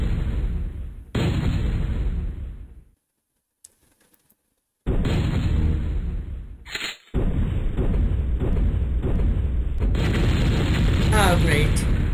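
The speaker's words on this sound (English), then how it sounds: "Fire the gravity gun." Loud booming blasts of a gravity gun firing in the MechQuest browser game, heavy bursts that cut off into near silence midway before resuming as sustained rumbling impacts.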